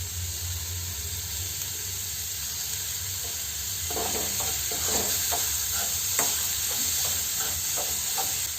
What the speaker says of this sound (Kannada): ಫೈನಾಗಿ ಕಟ್ ಮಾಡ್ಕೊಂಡಿರುವಂತಹ 2 ದೊಡ್ಡದಾದಂತಹ ಈರುಳ್ಳಿಯನ್ನು ನಾನು ಇದಕ್ಕೆ ಆ್ಯಡ್ ಮಾಡ್ತಿದ್ದೇನೆ.